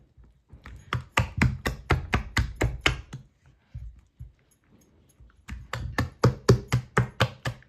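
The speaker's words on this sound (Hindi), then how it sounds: "अब मैं अपने हाथ की मदद से इसको खूब अच्छे से फेंटती हूँ।" Sel roti batter being beaten by hand in a bowl, a rapid run of sharp wet slaps and taps in two bursts separated by a short pause, close and clear with no talking.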